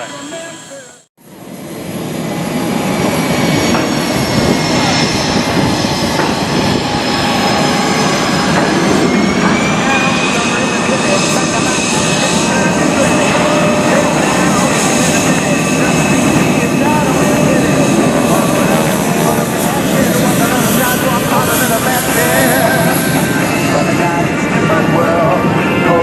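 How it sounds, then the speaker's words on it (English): Six Geico SkyTypers formation aircraft separate at the 2016 Oceana Air Show, producing a loud, steady propeller-engine drone that holds for the whole stretch with slowly shifting engine tones. "Let's watch as the 6 aircraft separate to visually check all quadrants."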